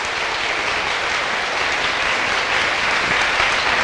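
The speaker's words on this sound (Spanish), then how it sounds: "Un fuerte aplauso para la diputada Karina," Steady, dense applause from a youth conference audience in a legislative hall, honoring a deputy named Karina, a continuous wash of many hands clapping with no voices over it.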